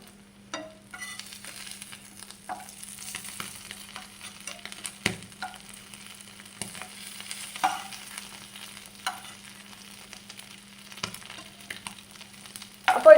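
Dried fish frying in a pan while pieces are turned over, giving a faint steady sizzle under soft scrapes and clinks of the spatula, with a louder knock near the end.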